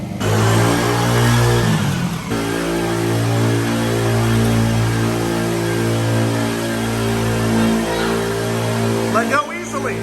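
A Polaris Outlaw 50 ATV engine drones loudly and steadily while doing donuts, its small-engine pitch holding high then dropping and settling into a sustained rev, close by with voices talking over it.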